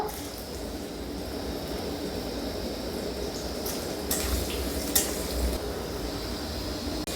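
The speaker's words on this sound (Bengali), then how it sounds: "এবার আমি গাজরটা ভেজে নেব।" Carrots sizzle steadily in a hot pan, a continuous close hiss, with a few louder clattering stirs near the end.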